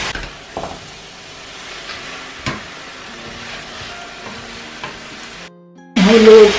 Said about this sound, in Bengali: মাছটা এখন তেলের মধ্যে, পেঁয়াজের মধ্যে ছেড়ে দিয়ে একটু ভাজতে হবে